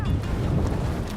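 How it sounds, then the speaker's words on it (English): Strong, gusty wind buffets the microphone outdoors at a rainy Peak District bouldering spot, a steady loud low rumble for the whole moment. "The weather's not great today, it's pretty windy and it's raining a little bit."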